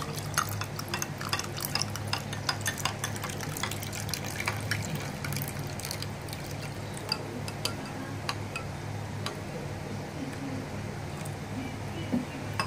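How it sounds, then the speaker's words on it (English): Water is poured into panakam syrup, a steady, soft trickling and splashing that runs unbroken for several seconds with faint clinks, close and fairly quiet. "So now you can add the required water."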